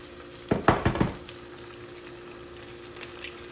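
An egg drops into a hot pan with a few sharp crackles and pops, then a quiet steady sizzle continues as it fries.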